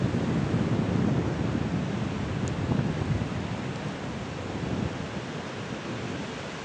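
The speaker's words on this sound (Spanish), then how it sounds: "Esta es la bella desembocadura del río Nosara" Surf breaking at the mouth of the Nosara River on the Costa Rican coast, a steady wash of roaring waves with wind buffeting the microphone, constant and fairly loud, no voices.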